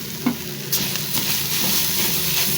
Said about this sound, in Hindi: इसको भी भून लेंगे, ताकि इसमें जो सब्जियों में नमी होती है ना, वो ख़त्म हो जाए।